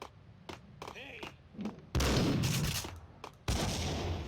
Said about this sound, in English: Nice nade, man.